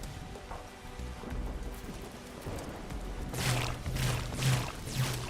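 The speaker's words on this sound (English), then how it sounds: "The storm is getting really intense." Heavy rain hisses steadily in the video game Riftbreaker's storm while low thunder rumbles build and several loud crackling bursts roll in, with no talking.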